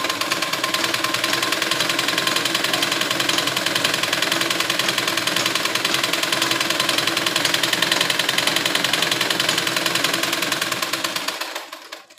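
A sewing machine stitches silk blouse fabric in a fast, steady mechanical clatter that runs loud and close without a break, then stops just before the end.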